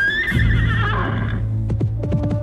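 A horse whinnies loudly and shrilly, its call wavering then trailing off, followed by a few snorting, chuffing breaths close by.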